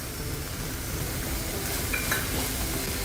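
A veg burger filling with corn is stirred and mixed in a pan, giving a steady, low sizzling and scraping texture that continues evenly without pauses.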